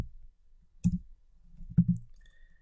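Two crisp computer mouse clicks open a new file editor window, close and isolated, spaced about a second apart in a quiet room.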